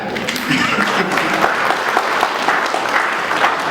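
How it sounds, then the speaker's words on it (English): An audience at an indoor event bursts into steady applause that holds for several seconds, a dense wash of clapping with a voice faintly audible beneath it. "yes, you may clap."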